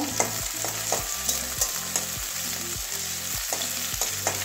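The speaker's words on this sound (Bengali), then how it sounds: "পেঁয়াজ কাঁচা লঙ্কাটা একটু ভাজবো কাঁচা গন্ধ যাওয়া পর্যন্ত।" Chopped onion and green chili frying in a pan while being stirred, a steady close sizzle broken by regular scraping strokes about every half second, with no talking.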